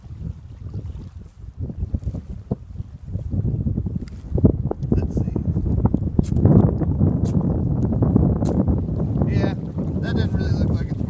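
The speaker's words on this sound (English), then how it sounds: "The wind is up too." Strong outdoor wind buffets the microphone in a steady, loud rumble that swells partway through, at a natural-tinder fire-starting spot with a Swedish fire steel.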